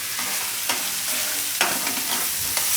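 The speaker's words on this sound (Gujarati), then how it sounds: "થોડીક વાર આ રીતે શેકી લેવાના મસાલા બધા એમાં" Spices sizzle and fry in a pan for a Gujarati paneer mixed-vegetable dish, with a steady hiss broken by several sharp scraping stirs of a spoon, close and clear with no talk.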